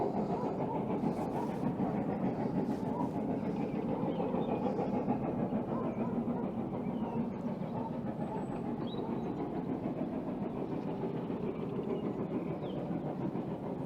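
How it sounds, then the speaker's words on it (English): A Great Western Railway train climbing toward Sugarloaf Hill near Paignton, heard from far off as a faint, steady rumble that holds for the whole stretch, with no talk over it. "That's going up to Sugarloaf Hill now. Listen to that. That's a really beautiful sound. That's the Great Western Railway in a nutshell."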